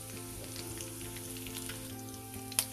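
Green chilies, grated ginger and curry leaves sizzle in hot oil for Surat street-style rasawala khaman, a close, steady frying crackle with faint stirring and one sharp clink near the end.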